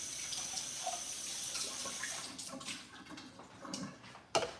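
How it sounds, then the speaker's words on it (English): Faint running tap water splashing as a juicer part gets a quick rinse under the faucet, steady soft flow with a brief clatter at the end. "let me rinse this out really quick"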